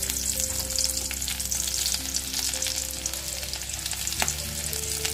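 Chopped garlic sizzles steadily in hot oil while being cooked with fenugreek greens and dried red chilli, a continuous close frying hiss with a soft stirring scrape near the end and no talk.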